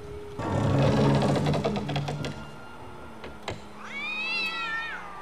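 Cats meow and yowl in a scene from the horror film Jeepers Creepers, a burst of clattering noise giving way to a drawn-out wavering cat cry near the end, fairly loud against a quiet background.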